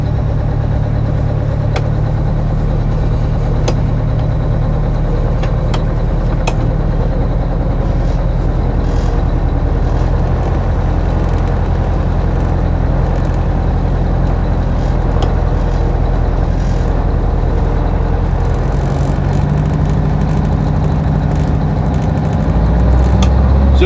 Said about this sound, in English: We're taking the truck for a drive right now.